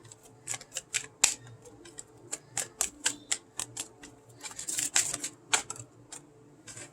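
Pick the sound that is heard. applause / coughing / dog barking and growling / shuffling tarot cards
shuffling tarot cards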